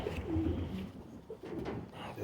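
Pigeons coo inside a loft, low rolling calls repeating close by in a steady murmur with a few overlapping voices and no talk.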